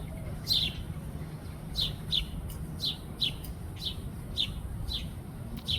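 A baby bird begs for food outdoors near a fence, giving a series of about nine thin, high chirps in a steady, repeated rhythm, fairly close over a low background rumble, with no voices.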